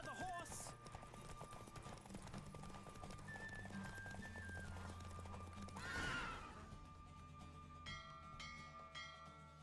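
A horse galloping in the Witcher 3 video game, with rapid rhythmic clip-clop hoofbeats and a neigh, heard amid game music and bell tones while voices speak over it.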